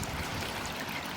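Water from a solar-powered pump trickles and splashes steadily in a garden water feature, a continuous close burble with no break.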